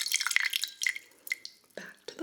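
Hot water poured back into a ceramic matcha chawan bowl holding a bamboo chasen whisk: close, quiet drips and short trickles with small splashes and a brief clink, then fading drops.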